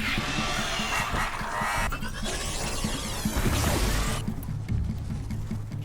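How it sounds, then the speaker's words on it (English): Chaotic combat in the video game Horizon Zero Dawn: a loud, crashing blast bursts over dense layered game noise, smashing impacts and whooshes, with sustained rumbling that fades into lower background sound near the end. "I don't even know where that explosion came from."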